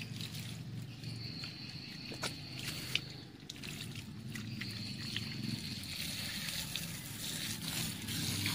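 Water is sprayed onto a potted waru bonsai during repotting, a soft trickling and splashing hiss with a few brief clicks, fairly quiet and close, with no talking.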